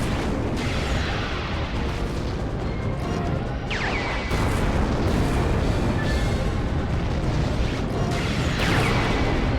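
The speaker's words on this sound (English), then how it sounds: "Missiles go." Missile volleys launching and bursting in the giant-robot game Robot Alchemic Drive, a dense, continuous roar of booming blasts and crashing impacts with no clear gaps, loud and close throughout.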